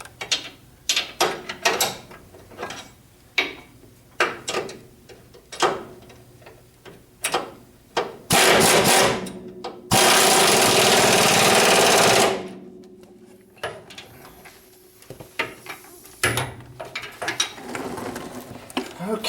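A ratchet tightening suspension bolts during spring and shock work, bursts of quick clicking strokes repeating close up, with a loud steady rush of noise in the middle and faint background sounds.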